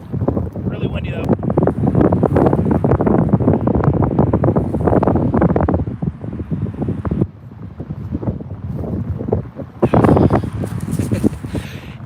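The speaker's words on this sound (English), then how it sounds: "Really windy, though." Strong gusty wind roars across the microphone on an open disc golf course, a loud continuous buffeting rumble that swells and dips, with brief voice moments mixed into the noise.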